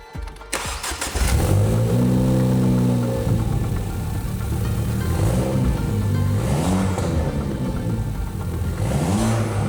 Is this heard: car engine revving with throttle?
yes